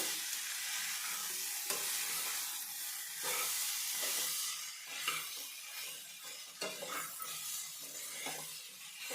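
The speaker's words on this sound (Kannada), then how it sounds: "ಕೊಬ್ಬರಿ ಹಾಕಿ ಒಂದು ಸಾರಿ ಮಿಕ್ಸ್ ಮಾಡಿದ್ಮೇಲೆ" Pumpkin and curry leaf stir-fry with grated coconut is stirred in a pan, giving a soft steady sizzle and hiss with intermittent scraping strokes, quiet and close, with no talking.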